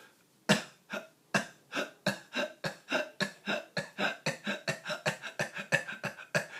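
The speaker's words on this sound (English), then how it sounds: "to do the hiccup and the miniature cough back and forth" A voice makes a rapid, rhythmic series of short hiccup-like gulps and tiny coughs, alternating back and forth about twenty times, close and fairly quiet.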